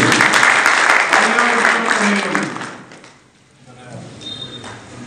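A crowd at a community welcome ceremony in Haryana claps loudly for a couple of seconds before the applause fades into quieter room noise.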